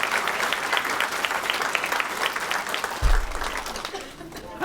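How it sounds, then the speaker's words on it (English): Indoor audience at a soap bubble show clapping steadily to welcome the performer, a dense, even patter of many hands at moderate distance with a brief thump partway through. "Let's please give him a nice warm applause."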